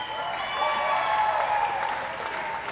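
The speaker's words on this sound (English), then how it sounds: "Give this guy a big round of applause." Steady applause from a crowd at a Musikfest 2019 outdoor stage concert, a dense wash of clapping that swells slightly in the middle and holds throughout.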